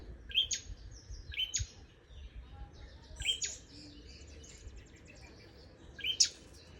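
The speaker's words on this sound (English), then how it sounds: "another bird." Birds chirp in a park, several short bright calls repeating every second or two against a steady low outdoor rumble.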